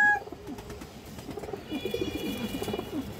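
Large fancy pigeons of an old breeding line coo close by in a loft, a run of low, rolling coos repeating steadily over a faint background rustle.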